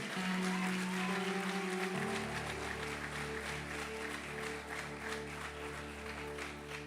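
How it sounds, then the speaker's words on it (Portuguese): A church congregation claps in continuous applause while a sustained organ or keyboard chord shifts and holds underneath, filling the room at moderate loudness. "Pode aplaudir o Senhor aí."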